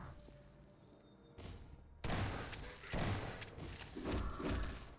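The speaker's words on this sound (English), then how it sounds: "I'm just going to waste 357 bullets because I'm so mad" .357 revolver gunfire in the SMOD Half-Life 2 game, a few heavy, booming shots with rumbling tails following a quiet start, fairly loud and close.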